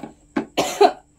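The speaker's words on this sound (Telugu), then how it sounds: "కారు దగ్గు వస్తుంది ఫ్రెండ్స్, ఏమనుకోవద్దు" Three short coughs, the last the harshest, come close and clear in a quiet kitchen, brought on by chili fumes while mango pickle is being made.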